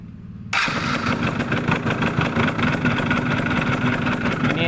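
A Yamaha F1ZR two-stroke motorcycle with a fullwave-converted stator fires up abruptly after a moment of quiet and settles into a steady, loud, close idle with a rhythmic throbbing beat.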